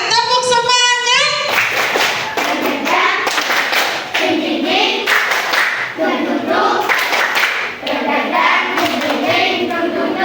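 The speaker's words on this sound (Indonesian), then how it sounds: "Sebelum kita melanjutkan, tepuk semangat, tepuk semangat." Schoolchildren perform a rhythmic spirit clap in a classroom, sharp patterned hand claps and thumps in bursts, mixed with children's voices chanting along after a short spoken cue.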